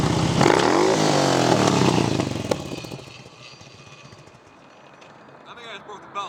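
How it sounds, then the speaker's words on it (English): A Harley-Davidson Road King with Carlini Flying Apes handlebars revs hard for a burnout, a loud, rising engine roar that holds for about two and a half seconds and then cuts off, leaving quiet rattling and a faint voice. "I tried to do a burnout."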